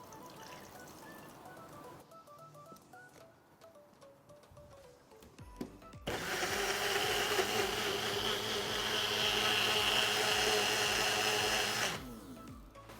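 A blender whirs loudly and steadily for about six seconds, pureeing peeled banana with a little milk, after quieter kitchen sounds, then stops abruptly.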